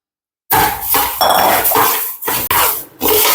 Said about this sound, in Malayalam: നമുക്ക് ആദ്യം ഈ അരിയിനെ ഒന്ന് വറുത്തെടുക്കാം